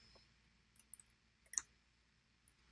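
A few sharp mouse clicks in Adobe Premiere, with a quick pair, then a louder cluster, then one last click against a quiet room.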